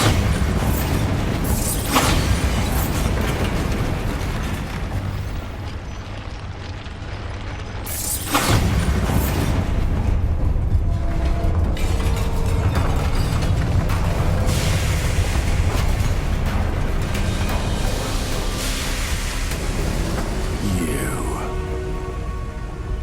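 A Bombarda spell explosion in Hogwarts Legacy: a loud, close blast hits early, then a second burst follows midway, trailing into mechanical rumbling, creaks and game effects.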